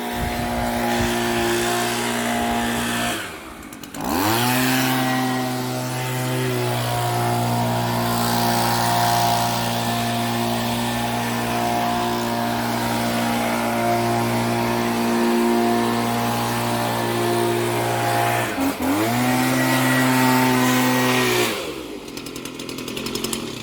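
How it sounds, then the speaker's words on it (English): A small engine of a leaf blower runs loudly and close, its pitch dipping and surging unevenly twice as the revs stumble and recover. "It's a good little blower, but as you can hear, it seems to go bleh"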